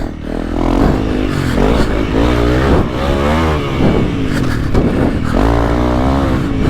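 A Honda CRF300L motorcycle engine revs loudly and steadily while being ridden, its pitch rising and falling in repeated throttle sweeps close to the listener.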